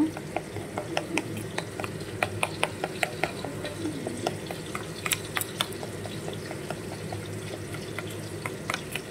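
Batter mixed with raw mustard oil for a Bengali hilsa tel jhal, a steady run of quick tapping and scraping stir strokes against a bowl over a low background hum, close and moderate, no voices.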